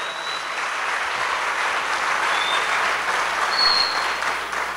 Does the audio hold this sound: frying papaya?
no